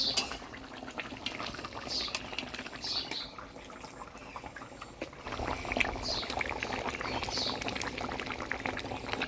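Fried pangas fish pieces going into a bubbling potato curry, soft splashes and quiet plops over a steady low boil, fairly faint and close.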